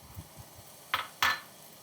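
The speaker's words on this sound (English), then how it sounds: "Now that everything is starting to sizzle like that, we add our ingredients" Carrots hit hot oil in a pan, giving two short, bright bursts of sizzle about a third of a second apart over a quiet kitchen background, with no talking.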